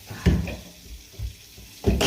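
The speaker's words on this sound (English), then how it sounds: "you're just going to fill it up with water" Water from a tap splashes into a paint roller container in short bursts: three brief gushes separated by quieter gaps, heard up close.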